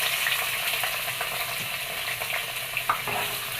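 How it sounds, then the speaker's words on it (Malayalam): Sliced onions fry in sunflower oil with whole spices for chicken biryani, giving a steady loud sizzle with occasional stirring scrapes and a couple of sharper clicks near the end, with no talking. "രണ്ട് സവാള കട്ട് ചെയ്തിട്ട് കൊടുക്കാം."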